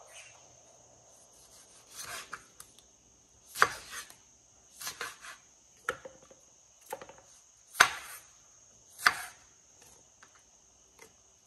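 A knife cutting through tomatoes, heard as a handful of separate crisp slicing and scraping strokes spaced apart, close and fairly quiet over a steady high background hum, with no talking.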